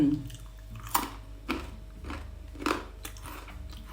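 Crunchy dried purple sweet potato chips are bitten and chewed up close, with several sharp crisp crunches spaced through the chewing and no talking.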